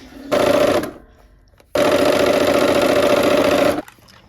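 A domestic sewing machine stitches the last two seams of a pinwheel quilt block. It runs in two close, steady whirring bursts, a short one and then a longer one, with a brief pause between and no talk.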